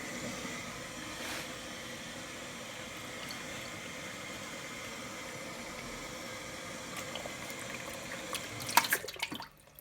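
A steady, close rush of water runs from a tap, with a brief clatter of handling near the end.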